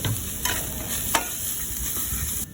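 Garlic and onion sautéing in a pan, a steady bright hiss of frying with a few sharp scrapes of a spatula, close and consistent until it cuts off near the end.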